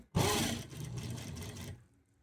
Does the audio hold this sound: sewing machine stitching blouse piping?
yes